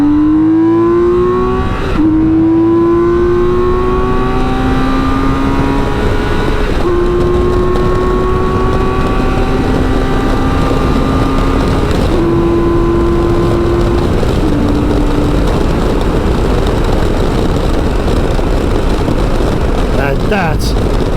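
A BMW K1600 GTL motorcycle accelerating on an empty road, its engine climbing through several gears in rising whines with brief dips at each shift, loud and close over rushing wind noise.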